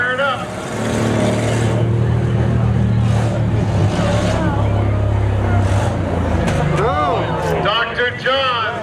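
A six-cylinder demolition derby car fires up at a county fair derby, its engine rumbling loud and steady close by for several seconds, with a crowd and an announcer's voice over it.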